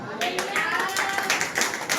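A church audience claps in response to the preacher, giving distinct, fairly close hand claps in an uneven rhythm for about two seconds. The preacher's voice is mixed in.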